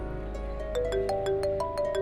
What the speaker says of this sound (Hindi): मिजदी की कॉल आ रही।